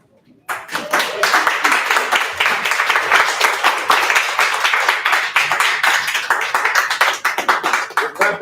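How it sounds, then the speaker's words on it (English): Sustained audience clapping at a poetry open mic night in a pub, dense and steady applause that starts abruptly and carries on for several seconds with a few voices mixed in. "We're clapping all over the stage"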